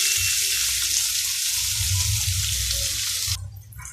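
Onion and potato pieces fry in a pan, giving a dense, steady hiss of sizzling oil. The sizzle cuts off sharply near the end, leaving only faint low clatter.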